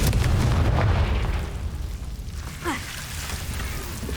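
The Confringo spell exploding in the Hogwarts Legacy video game, a loud booming blast rolling off into rumble, followed by a brief bright magical whoosh.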